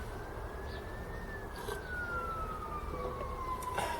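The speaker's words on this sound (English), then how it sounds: "Of course, there's always got to be a siren." An emergency vehicle siren wails steadily near an allotment garden, its tone slowly falling as it passes by, heard alone over a constant rumble of background traffic.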